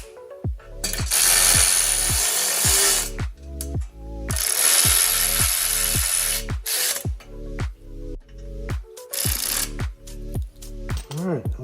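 A power tool tightens long-tube header bolts on a 1972 C10 with an LS swap, firing in rapid ratcheting bursts that repeat in quick short pulses, loud and close.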